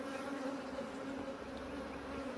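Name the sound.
honeybees buzzing in an open hive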